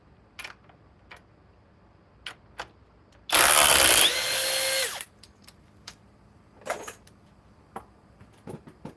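Ryobi power drill with an Edge battery, one burst of whirring about a second and a half long that drops in pitch partway through, set among sparse clicks and ticks in a quiet room.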